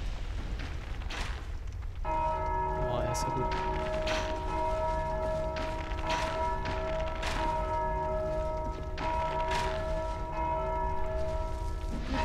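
Church bells ring in Dark Souls II's Undead Crypt, a sustained layered metallic toll that resonates steadily over the game's ambience, with a brief spoken exclamation near the start.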